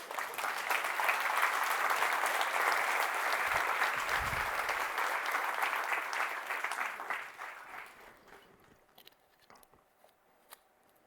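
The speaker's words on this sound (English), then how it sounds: "so I think that's worth clapping" An audience claps at a software talk on A/B testing and canary releases. The dense, steady applause lasts about seven seconds, then thins to a few scattered claps and quiet.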